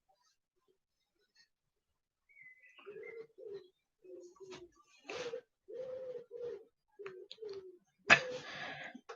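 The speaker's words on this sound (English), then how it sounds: "We've got pigeons outside at the moment, so the pigeons have taken over." Pigeons cooing outdoors, a series of soft, low, rounded coos in a loose rhythm of about ten calls, moderately near against quiet surroundings, ending with a brief fluttery burst.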